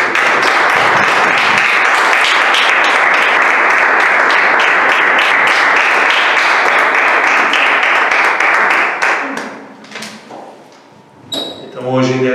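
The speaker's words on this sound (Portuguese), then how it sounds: "uma salva de palmas ao Senhor" A church congregation gives sustained loud applause, a dense wash of many hands clapping for about nine seconds before fading into scattered claps and a voice.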